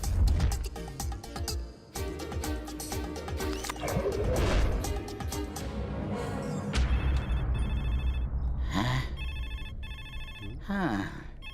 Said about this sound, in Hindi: इन्हें तो फोन भी सुनाई नहीं दे रहा है।